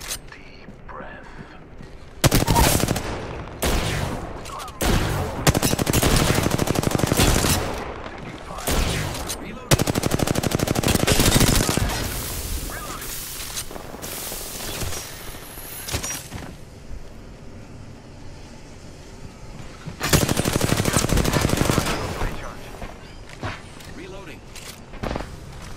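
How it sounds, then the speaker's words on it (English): Bursts of automatic gunfire from the battle royale video game Apex Legends, several loud volleys separated by quieter gaps, with a player talking over parts of the action. "Shots fired and they're hitting me."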